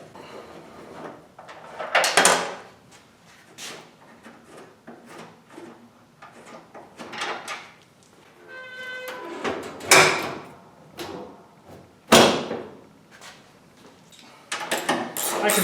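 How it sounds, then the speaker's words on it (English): Hood of a 1970 AMC Javelin fitted with a ram air hood being lowered and pushed shut, giving several loud knocking thumps and clunks of sheet metal with scraping between them, close by. "So let's see if the hood shuts."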